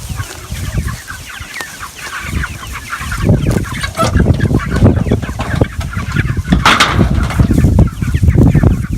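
Chickens cluck and chatter close by in a lively pastured flock moving to a new spot, short overlapping calls rising and falling, growing busier over several seconds.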